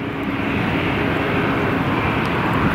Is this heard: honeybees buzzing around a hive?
no